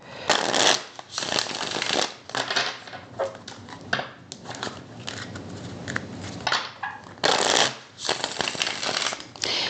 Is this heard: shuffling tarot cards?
yes